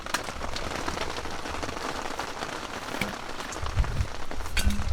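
Steady rain patters on a tent and its surroundings at a camp in Mito, Japan, a dense even hiss with scattered louder drops close by throughout, no voices.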